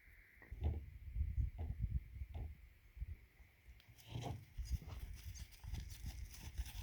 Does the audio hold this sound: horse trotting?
yes